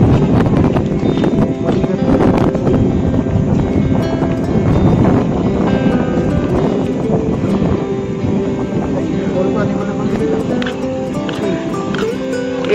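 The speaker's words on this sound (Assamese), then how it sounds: "বাপৰে বতাহ" Strong wind buffets the microphone outdoors on a road trip from Assam to Bangalore, a loud, continuous rumbling roar that fills the whole stretch with little letup.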